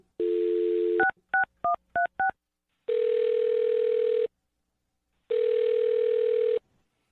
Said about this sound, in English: I'll dial her phone number right now and see if we can figure it out